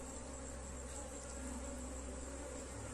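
Honeybees buzz at a strong, well-established hive, a dense steady hum that holds without break, close and fairly quiet, with no voices.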